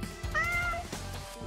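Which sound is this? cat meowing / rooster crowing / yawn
cat meowing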